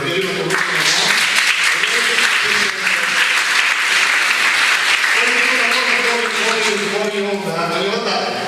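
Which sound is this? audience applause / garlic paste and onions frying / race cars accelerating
audience applause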